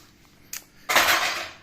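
Dishes clatter and clink in a brief burst, a short knock followed by a louder, sustained rattle of plates and cutlery nearby.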